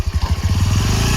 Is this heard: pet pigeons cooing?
no